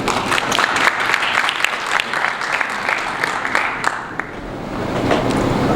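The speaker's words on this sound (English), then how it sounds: "Let's give him a round of applause" A conference audience applauds a DEEX Exchange CEO with steady, fairly loud clapping that fills the room, fading slightly toward the end.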